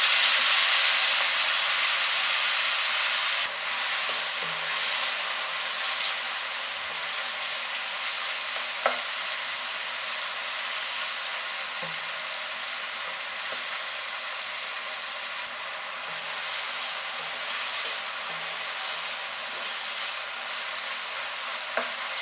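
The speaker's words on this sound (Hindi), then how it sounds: "लहसुन फ्राई हो चुका है। अब इसमें मैरिनेट की हुई चिकन डालेंगे।" Marinated chicken frying with garlic in a pan over medium heat, a steady broadband sizzle that holds loud and even throughout, with occasional soft stirring clinks underneath.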